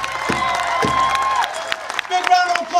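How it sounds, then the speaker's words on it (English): Crowd applauding speakers at an outdoor political rally, a continuous dense wash of clapping and cheering with a voice talking over it throughout. "Big round of applause for all of our speakers here today."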